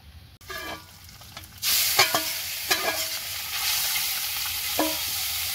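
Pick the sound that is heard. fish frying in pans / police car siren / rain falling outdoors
fish frying in pans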